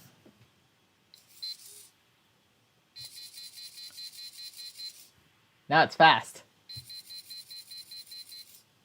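Alarm from a SparkFun Inventor's Kit ultrasonic sensor circuit: rapid trains of short, bright electronic beeps in several bursts, separated by pauses in which a person speaks.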